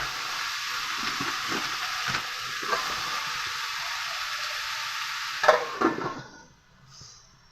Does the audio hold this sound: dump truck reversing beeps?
no